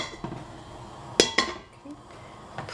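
Food dropped into a cooking pot over a lit fire, a couple of sharp metallic clinks and knocks of pot and utensil in quick succession, close and clear, then quieter kitchen background.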